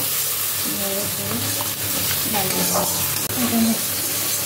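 Spices with turmeric and Kashmiri chilli frying in a pan, a loud continuous sizzle with stirring scrapes and a faint voice in the background.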